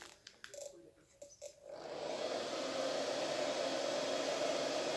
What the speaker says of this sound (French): Moi, je sèche au sèche-cheveux.